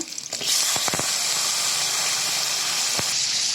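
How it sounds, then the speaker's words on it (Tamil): Tomatoes and green chillies hit hot oil with sautéed onions for a channa masala gravy, bursting into a loud, steady hiss and sizzle after a few brief clatters, close and sustained. "தக்காளியும் பச்சை மிளகாயும் சேர்த்துக்கோங்க."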